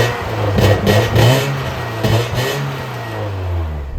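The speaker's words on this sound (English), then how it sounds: "delete too much and you'll end up with this drone-filled raspy mass" BMW E30 with its exhaust resonator deleted, the engine revving in a few rising and falling pulls with a loud, droning, raspy exhaust tone heard up close and alone.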